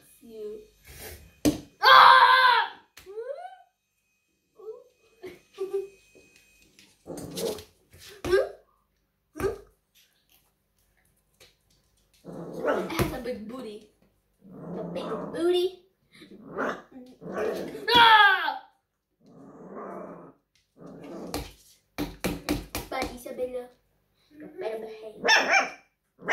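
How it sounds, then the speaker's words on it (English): German Shepherd–Labrador cross puppies bark and growl in scattered bursts amid loud slaps and clatter, with people talking excitedly in between. "It's barking. It's barking!"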